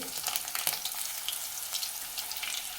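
Garlic and spices fry in a pan for anda bhurji, a steady close sizzle with crackling pops and occasional stirring scrapes, with no talking.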